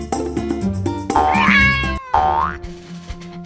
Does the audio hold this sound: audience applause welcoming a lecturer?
no